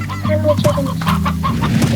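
Chickens cluck in the video game Slime Rancher, a steady run of close, clear clucks and short calls that overlap one another, with no talk over them.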